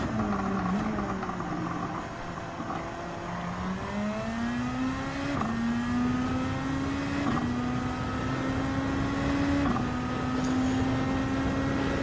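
A Lexus RC F race car engine in Gran Turismo 7 accelerating through the gears while overtaking, the pitch climbing repeatedly and dropping at each upshift, loud and continuous with no talk.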